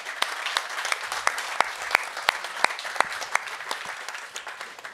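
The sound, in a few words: applause for the next speaker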